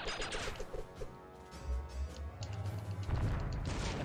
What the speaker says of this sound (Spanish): Entiendo que aquí tengo que dispararle más rápido de lo que cargue el disparo